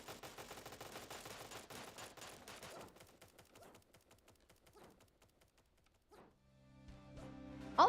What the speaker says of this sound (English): Everybody having a grand old time just shooting each other, shooting me, shooting the targets.